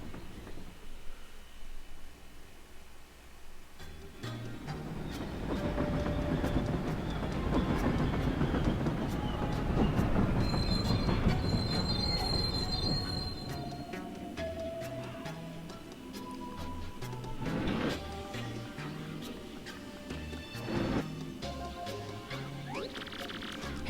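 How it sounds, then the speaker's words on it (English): A train in the video game Paper Mario: The Thousand-Year Door runs with a steady rolling rumble and rhythmic clacking, mixed with game music and sparse tonal effects throughout; no one speaks. "This train will soon make a brief scheduled stop at Riverside Station."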